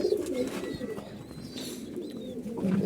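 Pigeons coo close by in a soft, continuous low burble, with a few faint chirps layered over the steady cooing.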